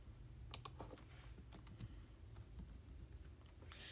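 Quiet, close keystrokes on a computer keyboard while typing C++ code, a short irregular run of clicks with brief pauses between them and no talking.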